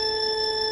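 A steady electronic timer beep rings out continuously, loud and clear, as the timer starts during a blindfolded escape room challenge.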